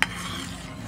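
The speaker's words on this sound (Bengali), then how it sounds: "একটু একটু দিতে থাকবো আর এইভাবে নাড়তে থাকবো।" Watermelon juice thickened with cornflour is stirred in a pan, a short close run of soft scraping and swirling with a faint tap of the spoon at the start.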